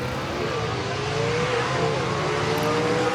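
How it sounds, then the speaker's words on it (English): Drag racing cars in A-Gas competition tear down the racetrack at a motorsports event in Lyons, Indiana, a loud sustained engine roar with rising pitch, steady and close throughout. "Listen to these cars get down the racetrack."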